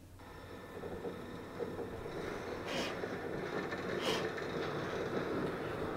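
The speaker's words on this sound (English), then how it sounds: "It's going to load the first intro train sequence." The opening train sequence of Half-Life 2, played in Windows 10 on an Apple Silicon M1 Mac, gives a steady rumble of a moving rail car with faint rattles and clicks, continuous and fairly close.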